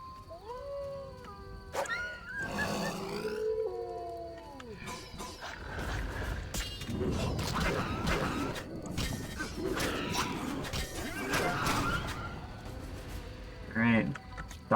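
Hostile dogs attack in a village in The Witcher, with howling, snarling and barking bursts over game noise and clattering, several animal cries rising and falling near the start and again toward the end, with voices mixed in.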